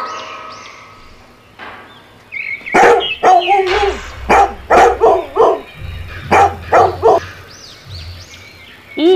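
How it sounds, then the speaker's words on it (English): A dog barks repeatedly in quick bursts, loud and close, with some higher yips and cat-like cries between and around the barks. "D for dog."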